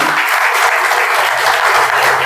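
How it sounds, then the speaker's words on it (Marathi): Loud, dense applause from a gathered congregation at a new church building dedication, steady clapping filling the room without a break from start to finish. "जोरदार टाळ्या वाजून आपण देवाला धन्यवाद देऊ."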